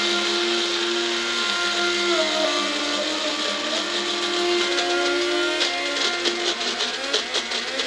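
A blender grinds fried onion with water, its motor whirring loud and steady with a tonal whine that shifts in pitch, turning rattly and pulsing toward the end.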